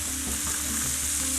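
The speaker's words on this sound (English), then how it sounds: "There's something that you can tell about a good sear. You can hear it happen in the pan. In this case, I can hear it happen in the wok." Meat sears in a very hot wok, giving a loud, steady, crackling sizzle that holds unbroken for its whole short length with no voices.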